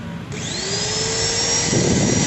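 A Maktec MT90 angle grinder, just repaired after a stiff, failed switch, clicks on and its motor spins up into a loud, steady, high-pitched whine that holds with a rough rumble underneath, heard alone.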